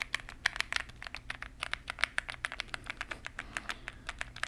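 Rapid clicky keystrokes on a mechanical keyboard, close and crisp, tapping in an uneven but continuous rhythm with no talking.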